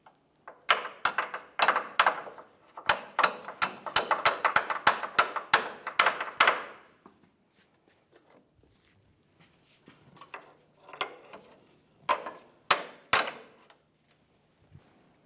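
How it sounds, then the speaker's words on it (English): A control arm mounting bolt on a 2002-2007 Chevy is tapped in with a hammer: a rapid burst of sharp metallic knocks for several seconds, then a pause and a few scattered taps, close and without talk. "Tap this in."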